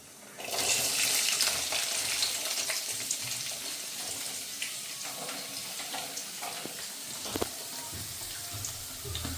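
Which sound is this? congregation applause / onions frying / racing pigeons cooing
onions frying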